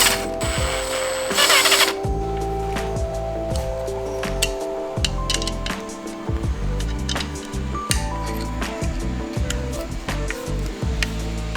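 A ratchet tightens bolts on a Bulletpoint phone mount in a Jeep Wrangler JL Rubicon, with steady close clicking and metallic clinks running throughout.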